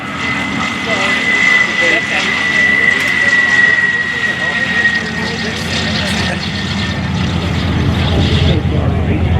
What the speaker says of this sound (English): Stan Music about to touch down in the Corsair